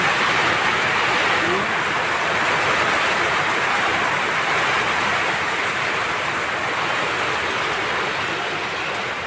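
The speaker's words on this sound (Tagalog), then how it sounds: "Ang lakas ng ulan." Heavy rain pours down in a dense, loud, steady broadband roar that holds without a break from start to finish, with no talking over it.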